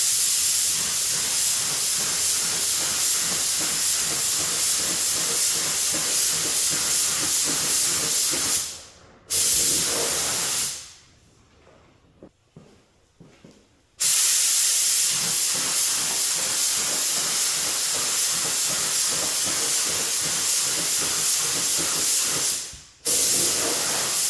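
Gravity feed spray gun spraying pigmented paint over a fender, a steady loud hissing spray that runs continuously, breaks off briefly twice with short pauses, then resumes, with no talking.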